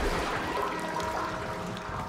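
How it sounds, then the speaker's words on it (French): A toilet flush in the Warframe video game sounds as a continuous rushing, pouring gush of water, loud at first and slowly easing, heard alone without speech. "Ce bruit de chasse d'eau."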